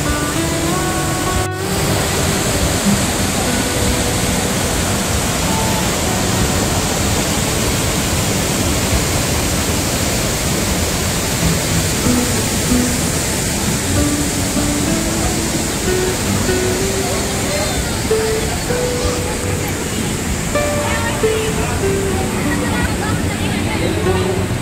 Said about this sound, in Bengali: তো আমি কিন্তু ওই একটা ঝর্ণা দেখে নিলাম।